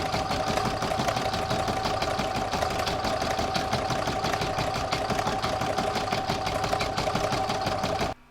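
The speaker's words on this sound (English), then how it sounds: "Then you pop it back in your machine and you'll stitch the outline" An embroidery sewing machine stitches stippling in a fast, steady mechanical whir with a rapid needle chatter, loud and close, running continuously before stopping abruptly.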